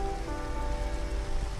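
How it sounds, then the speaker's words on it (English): Steady rain falling in Minecraft gameplay on PS4, a dense continuous patter of drops on surfaces, even and close with no voices. "the rain's falling down. That means the zombies won't die."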